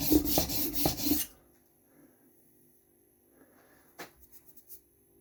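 A wrecked Dovo Inox straight razor strokes across a fine 4000-grit sharpening stone: about a second of close, gritty rasping in several quick strokes, then near silence broken by a few faint light taps.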